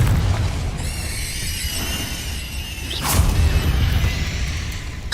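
A Confringo fire-blast spell bursts in the video game Hogwarts Legacy: one sudden loud boom with a whooshing crack, set against a steady rumbling game soundscape with high tonal effects fading before the blast.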